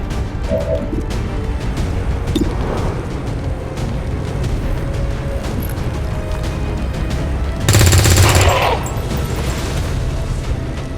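A burst of gunfire from the video game XCOM 2 erupts loudly for about a second near the end, rising out of a steady layer of game ambience and music.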